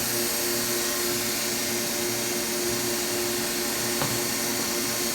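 A Kolbus DAS case maker machine running, a loud, steady mechanical whir and hum with a constant tone and one brief click partway through.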